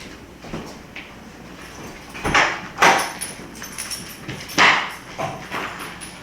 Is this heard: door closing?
yes